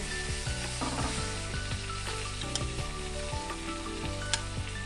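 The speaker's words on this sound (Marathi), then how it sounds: "हे गोल गोल फिरवायचे, म्हणजे चारी बाजूने तळले पाहिजे, कारण हे जाड आहेत ना म्हणून" Rani fish (pink perch) frying in a pan of oil, a dense continuous close sizzle with occasional light scraping as the thick pieces are turned, no voices.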